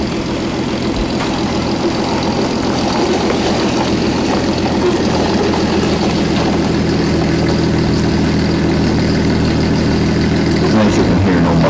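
A truck engine with no muffler idles loudly and roughly up close, a steady, throbbing low rumble that runs unbroken the whole time.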